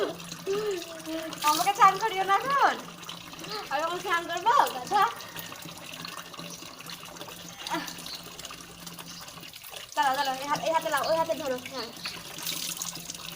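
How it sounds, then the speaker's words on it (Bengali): Water poured over a child's head during a home bath, splashing and running in several bursts, with a voice and laughter plus adult speech over and between the pours. "আমাকে স্নান করে দিচ্ছে আমার মাথায় জল ঢেলে দিচ্ছে"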